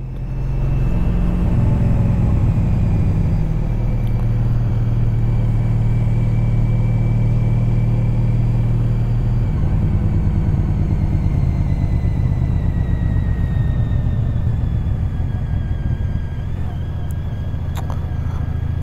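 A Honda CTX1300 motorcycle engine heard while riding, a loud, steady low rumble with a continuous droning tone and wind noise throughout, no talking.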